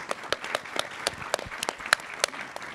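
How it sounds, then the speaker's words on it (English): Sparse applause from a small audience at a climate action panel, with individual claps landing as distinct spaced hits over a faint, thin wash of clapping. "Round of applause,"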